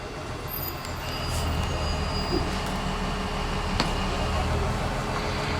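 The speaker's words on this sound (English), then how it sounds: "we are going to hold here for just a moment while the other shuttle passes in front of us" Another theme park backlot tour shuttle rolls past in front at a Hollywood studio park, a steady rumbling roll with faint wheel squeal and a few sharp clicks, moderately close and continuous.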